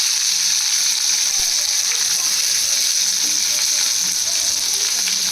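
Onions hit hot oil already holding fennel seeds and curry leaves for chicken kulambu, producing a loud, close, continuous sizzle and hiss.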